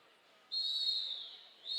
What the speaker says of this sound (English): There's that rolling whistle we were looking for